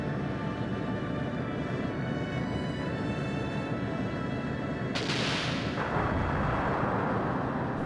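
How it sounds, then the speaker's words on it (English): Cannons boom in a Skies of Arcadia Legends airship battle, a dense rumbling volley over constant game music, with a bright burst of impacts partway through. "as long as at least one of those cannons hit, we'll probably be good."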